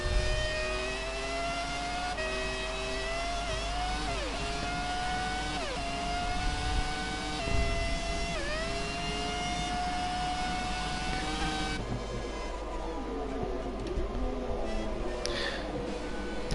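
Formula 1 cars from the game F1 2017 race through a chicane, their high-pitched engines whining and shifting through gears, rising and falling in pitch as they brake and accelerate. A sustained, fairly loud stretch with no talk.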